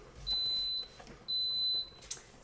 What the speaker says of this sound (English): It's gonna beep, it's gonna say it's on, and then it's gonna start cooking.